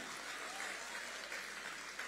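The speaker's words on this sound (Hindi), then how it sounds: "सारे बंगालियों के लिए तालियां बजाएं आप" Dense, continuous applause from a large audience at a literary festival interview, steady and fairly distant, with no clear voice above it.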